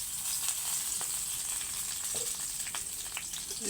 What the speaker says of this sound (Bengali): দিয়ে এই দেখো একটু লাড়াফাড়া করে পেস্টটা লাল লাল করে ভেজে নেওয়ার পরে